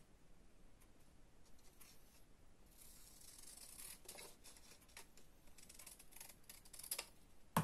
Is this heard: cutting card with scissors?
yes